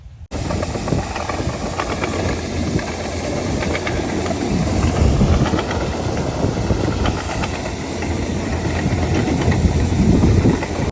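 A combine harvester runs in a potato field, giving a loud, continuous engine roar with mechanical clatter and hiss. It starts abruptly and stays close and steady throughout, with no voices.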